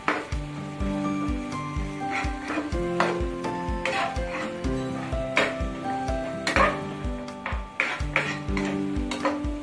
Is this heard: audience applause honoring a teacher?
no